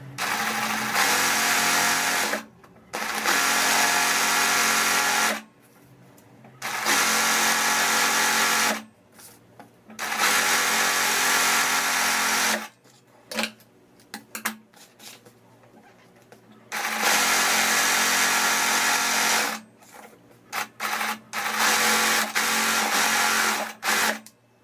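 Sewing machine running a straight stitch with the presser foot, sewing a dog-print baby bib set: loud whirring bursts of several seconds each, separated by short pauses and small handling clicks.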